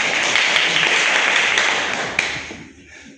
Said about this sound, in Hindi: आप उनके लिए तालियां बजाइए एक बार